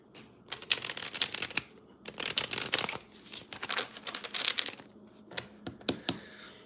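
An oracle card deck is shuffled close up, with bursts of crisp riffling and flicking cards broken by short pauses and soft handling noises.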